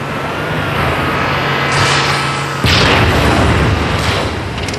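Rocket explosions in a video game demo shown at an E3 2004 press conference: a dense, loud rumble with a sharp booming blast partway through that rolls into a long roaring decay.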